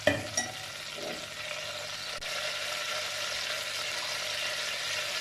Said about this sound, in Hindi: ये देखिए घी की आवाज़ आने लग गई है। इलायची के दाने इसमें भूनने हैं ज़रा से